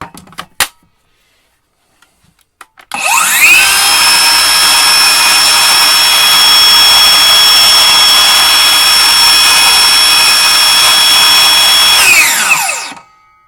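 A few clicks, then a cordless circular saw spins up into a loud, steady high-pitched whine, runs for about nine seconds, and winds down.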